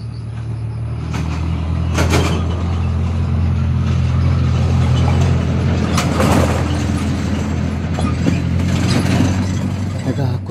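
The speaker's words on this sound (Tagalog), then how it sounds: "Parang may sasakyan ah." A motor vehicle rumbles past close by, a loud low engine drone with rattling mechanical clatter and bursts of broadband noise rising and falling over about ten seconds.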